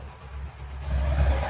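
Kawasaki Ninja 300cc motorcycle engine revving, a smooth low rumble that swells louder partway through and holds steady, close by with no talk over it.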